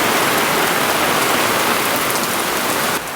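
Heavy rain pouring onto an outdoor pickleball court in Florida, a loud, dense, steady hiss of drops that continues unbroken, easing slightly at the very end, with no voices.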